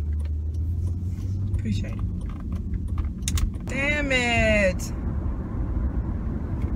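Steady low road-traffic rumble from cars idling and creeping in heavy congestion, heard from inside a vehicle, with a brief higher whine partway through and a person muttering over it.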